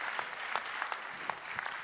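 A brief burst of audience applause at a panel discussion, moderately distant, a dense patter of many hands clapping with no voices.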